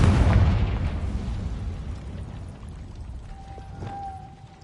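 A Confringo blasting spell explodes in a Harry Potter video game, a loud close boom that rumbles and decays over several seconds, with a faint high tone rising near the end.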